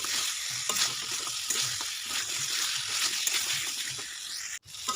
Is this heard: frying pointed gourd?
yes